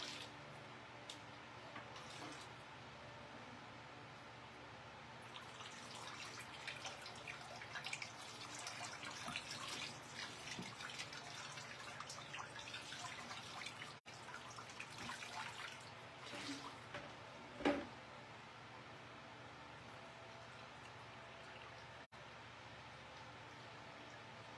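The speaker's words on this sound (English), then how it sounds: "So let me rinse it real quick." Tap water runs and drips steadily into a sink while marbled paper is rinsed, a quiet continuous trickle with scattered splashes and one louder splash near the end.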